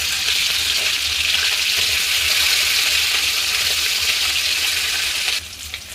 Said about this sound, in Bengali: তেল গরম হয়ে গেছে, এবার মাছ তুলে দেবো।